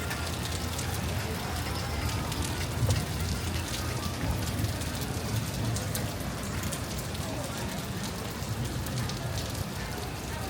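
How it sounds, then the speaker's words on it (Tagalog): Steady rain pours down outdoors at a mall and residential development, a dense continuous hiss of drops hitting surfaces throughout, fairly close and uniform with no other clear sounds. "Sayang nga umuulan ngayon."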